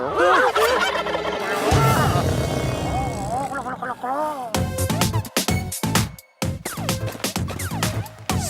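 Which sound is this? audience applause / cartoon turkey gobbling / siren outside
cartoon turkey gobbling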